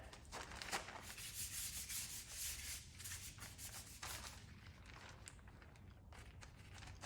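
A 1.5-inch chip brush loaded with black paint scrubbing across a canvas, giving soft, continuous rubbing strokes in uneven bursts, close and quiet with no talk.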